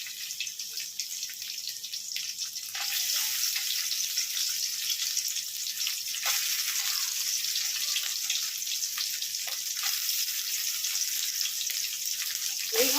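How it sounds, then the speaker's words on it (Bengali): Soybean chunks frying in leftover potato oil in a Bengali home kitchen give a steady, moderately loud sizzle that thickens after the first few seconds and runs on with no voices. "দেখো আলুর যে তেলটা রয়েছে সেই তেলের মধ্যে আমি সব সোয়াবিনগুলোকে ছেড়ে দিচ্ছি, দিয়ে আমি সোয়াবিনগুলোকে ভেজে নিচ্ছি।"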